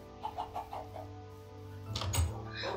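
Game-style chicken clucks, a few short bursts early on, then a louder cluster of clucking near the end, fairly close and with no talking.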